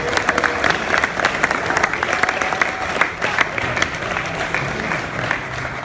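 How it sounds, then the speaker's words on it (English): Loud, dense crowd applause filling a large event hall, many hands clapping continuously with sharp individual claps poking through, close and sustained throughout. "they deserve a huge round of applause"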